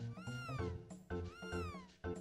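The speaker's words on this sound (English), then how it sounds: "Look, Chrono, your cat's running away because you haven't been feeding it" A cat in the Chrono Trigger video game meows loudly and up close, giving about three distinct meows in quick succession with no talking.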